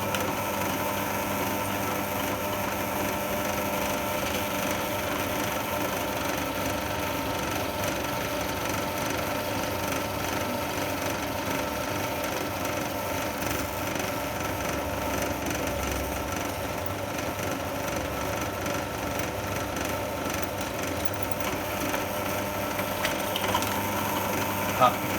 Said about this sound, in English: we're at the bench drill, and what we're going to do is we're going to just drill straight through